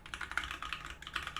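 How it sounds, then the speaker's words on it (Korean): Quick bursts of typing on a Matrix Abel custom mechanical keyboard, dry, crisp keystrokes clattering in a rapid irregular rhythm, close and fairly quiet, with no voices. "이 매트릭스 키보드 얘는 그렇지는 않고 좀 더 건조한 소리가 나지만 좀 더 명쾌한 소리가 나면서 살짝은 좀 더 볼륨이 크다라고 얘기할 수가 있겠습니다"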